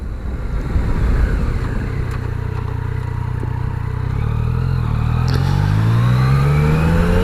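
A Yamaha Niken three-wheeled motorcycle ridden through twisty local roads, its engine droning steadily and then revving up as it accelerates toward the end, loud and close with no talk.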